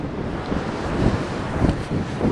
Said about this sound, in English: There are huge waves out there.